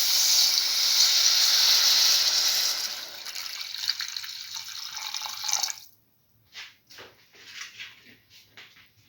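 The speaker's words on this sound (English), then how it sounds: "Pour in 200 ml of water." A steady rush of 200 ml of water pouring into a hot pan of sautéed bottle gourd stew ingredients, hissing, then tapering off into scattered drips and sizzles.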